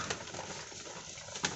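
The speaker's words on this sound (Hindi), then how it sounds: "पीछे दाना शाना कबूतर सब खा रहे हैं" Pigeons pecking at scattered grain give off soft, low cooing, faint and close over a steady hush of background noise, with one brief brighter flutter near the end.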